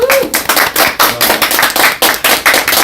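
Enthusiastic audience applause at a political party rally, loud and close, with rhythmic unison clapping in even beats, about four per second, and a faint voice underneath.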